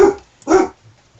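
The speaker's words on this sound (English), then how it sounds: "Right now there's a dog. I hear the dog. Big dog." A big dog barks outside: two gruff, separate barks in quick succession, fairly loud and clear, followed by a faint low growl-like rumble and no voices.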